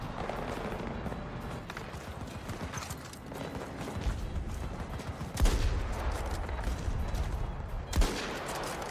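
Rapid gunfire from the shooter video game Battlefield 2042 fills the clip as a dense, clattering burst with two louder shots standing out near the end. No one speaks.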